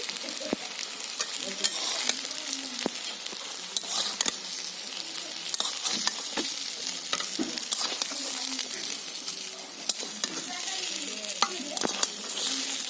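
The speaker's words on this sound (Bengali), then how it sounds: "এই দেখুন এই পকোড়াগুলো ভাজা হয়ে গেছে এবার এগুলোও তুলে নেব" Drumstick flower and prawn pakoras fry in hot oil, a bright continuous sizzle punctuated by sharp clicks of a spatula stirring and lifting them from the pan.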